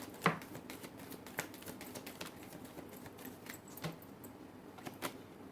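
Tarot cards being shuffled by hand, producing soft, quiet riffling clicks and a few sharper snaps spread across the stretch, with no talking.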